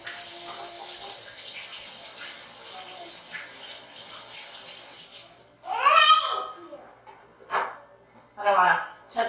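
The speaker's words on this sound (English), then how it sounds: "Let me wash my hands real quick." Running water pours steadily from a tap while hands are washed in a home kitchen, a constant hiss for several seconds, then children's voices and babbling cut in with brief splashes.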